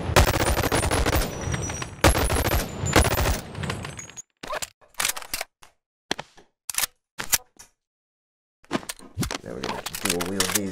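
An MP5K submachine gun fires in the Boneworks VR game. Long rapid automatic bursts come first, then short separated bursts and single shots with gaps of silence between them, and a voice speaks near the end.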